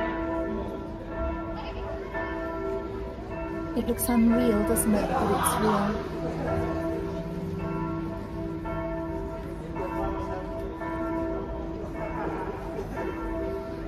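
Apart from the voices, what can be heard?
church bells ringing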